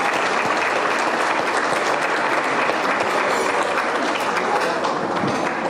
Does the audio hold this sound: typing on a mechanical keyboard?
no